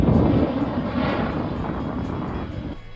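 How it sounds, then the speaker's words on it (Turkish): A Baykar Bayraktar Kızılelma unmanned jet aircraft on its first flight gives a loud, steady jet roar that stays constant and eases slightly toward the end. "Bayraktar Kızılelma muhalif insansız uçak sisteminin ilk uçuşu başarıyla gerçekleştirildi."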